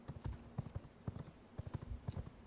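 Horse hooves clip-clop at a quick gallop in the V Rising video game, crisp rhythmic knocks in uneven clusters, quiet and close, with no talking.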